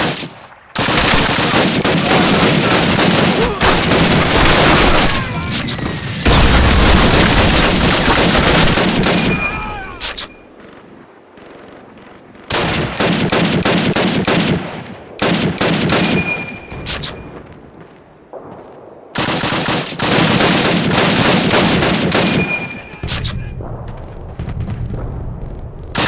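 Sustained machine-gun and rifle fire rages through a Call of Duty battle, loud and near, coming in long bursts separated by brief lulls, with shouted voices mixed in.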